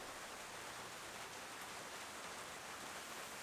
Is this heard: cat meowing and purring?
no